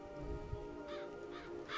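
Crows in Psychonauts caw faintly a few times in a quiet, murky game ambience, the calls short and distant.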